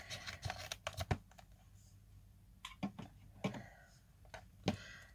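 A blade cuts straight into a cardboard Amazon parcel, making quiet, close, irregular scratchy clicks and crinkling tears in short bursts with pauses between them.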